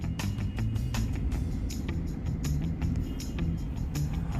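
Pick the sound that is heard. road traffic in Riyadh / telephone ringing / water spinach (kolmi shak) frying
road traffic in Riyadh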